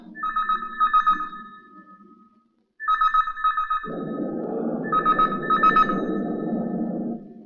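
A telephone rings in a Bengali film scene with three bursts of bright electronic ringing separated by short pauses. A rough, rumbling noise joins under the last two rings.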